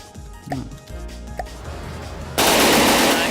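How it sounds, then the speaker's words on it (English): Four 30mm assault cannons open fire together in the video game From The Depths, a loud continuous burst of rapid automatic fire that abruptly takes over after a short stretch of quieter mechanical hum and clicks. "It's got 4 30mm assault cannons on it."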